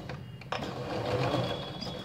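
Domestic sewing machine stitching piping onto a garment neck edge, running steadily and close throughout with a continuous whirring hum.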